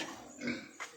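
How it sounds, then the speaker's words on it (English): Farm pigs in a pen after feeding, giving two short, soft grunts close by, one longer and one brief, against a quiet background. "So the pigs are fed and cleaned out."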